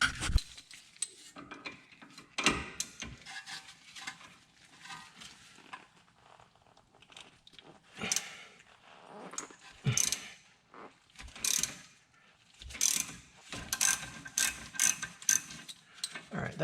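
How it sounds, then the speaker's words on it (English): A ratchet clicks in short bursts while loosening the outer tie rod bolt on a 2006 BMW 330i, close metallic ratcheting strokes separated by pauses and clinks of tools. "So we will have to loosen this bolt here, which will allow us to turn it"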